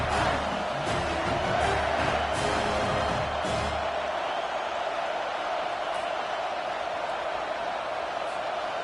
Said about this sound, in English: You can hear this home crowd going bananas.